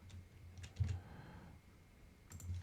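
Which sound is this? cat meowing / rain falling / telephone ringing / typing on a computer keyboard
typing on a computer keyboard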